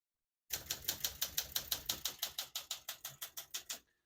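Rapid, even keystrokes on a 1965 Olympia SM9 portable typewriter, roughly fifteen crisp mechanical clacks in a steady rhythm, close and alone, ending in quiet.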